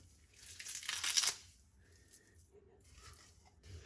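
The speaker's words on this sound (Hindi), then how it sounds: "और हरा धनिया ऐसे हाथों से तोड़ के ना।" Fresh coriander leaves torn by hand over chutney ingredients, a burst of soft crinkling and tearing near the mic, then quieter rustles and faint handling noise.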